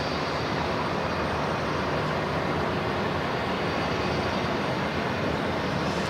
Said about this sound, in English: The 380, of course, going to come right past us here.